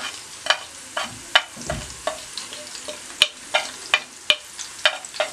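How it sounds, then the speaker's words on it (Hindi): Cumin seeds fry in a hot pan with a steady background sizzle, punctuated by sharp, evenly spaced clicks and scrapes from stirring or popping seeds, close and moderately loud with no voices. "चंद सेकंड के लिए इसको फ्राई किया और जीरा डाल दें"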